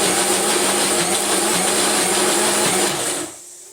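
A mixer grinder grinding chutney whirs loudly and steadily for a few seconds, then cuts off and winds down.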